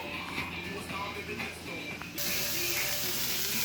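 Food fries fast in a pan over an outdoor gas stove in a Thai kitchen, a close, steady sizzling hiss that suddenly swells louder partway through.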